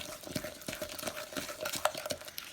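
Wooden spoon stirred by hand through peach cobbler batter in a bowl, giving a steady series of soft scraping knocks and wet swishes, close and fairly quiet, with no voices.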